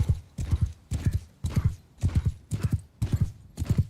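Galloping horse in Mount & Blade 2 Bannerlord with the Old Realms mod, hoofbeats thudding close and loud in steady repeating clusters roughly every half second, alone with no voices.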